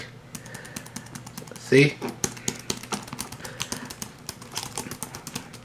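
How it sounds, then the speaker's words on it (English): Keys click on a full-size tactile keyboard built into a 7-inch PU leather stand case for a tablet, a quick run of crisp taps with one louder burst, under a brief spoken word. "the buttons have that tactile feedback that I like. You can really hear the click."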